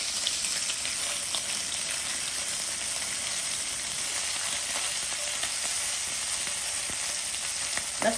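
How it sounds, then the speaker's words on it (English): Sausages brown in a hot skillet, giving a steady, loud sizzle and spatter that holds unbroken for several seconds with no talking. "We are going to add our sausages and we're going to brown them up, okay?"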